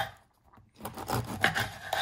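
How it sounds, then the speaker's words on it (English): A knife sawing a baguette into thin rounds, a brief quiet start and then raspy back-and-forth scraping strokes through the crust, close by. "So we have a baguette. We want to slice it into thin, I don't know, about 1/4 to 1/2 inch rounds."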